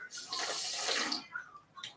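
Water runs briefly from a tap during a break in a live home workout, a close steady gush that stops after about a second, followed by small splashes and handling noises.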